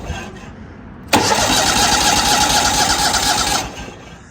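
A small engine set at idle is cranked and fires suddenly, then runs loud and steady at close range for about two and a half seconds before dropping back; no one talks.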